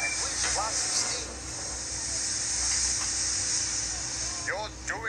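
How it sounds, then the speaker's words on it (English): A cartoon steam engine lets off a long, steady hiss of steam at a station. The hiss stays loud and continuous throughout, with brief whistle-like chirps and a voice speaking over it. "He blew his whistle. And whizzed lots of steam."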